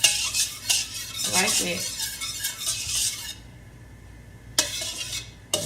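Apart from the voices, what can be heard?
stirring shrimp fried rice in a pan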